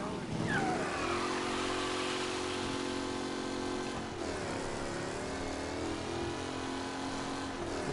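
A fast car's engine revs steadily in a crime-drama driving game, harmonic mid-pitched drone rising and falling with gear changes, close and continuous, while a person talks over it.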